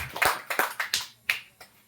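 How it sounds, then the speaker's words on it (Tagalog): Church congregation applauding the Lord during a Christmas preaching service, a handful of sharp, uneven claps close by, spaced irregularly and fading toward the end, with no talking. "Isang malakas na palakpak po para sa ating Panginoon."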